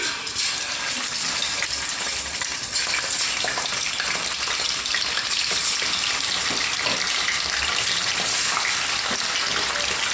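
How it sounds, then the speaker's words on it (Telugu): Fish pieces dropped into well-heated oil fry with a steady, dense, close sizzle and bubbling hiss that holds loud and even throughout. "ఇప్పుడైతే మనం చేప ముక్కలు ఒకటి వేసుకుందాం నూనెలోకి"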